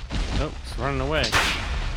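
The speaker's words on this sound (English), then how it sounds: "Wait till I bring out the flintlock pistol." A flintlock pistol fires in Ark Survival Evolved Aberration, a sharp loud blast near the middle with a fainter one at the start, mixed in with someone talking.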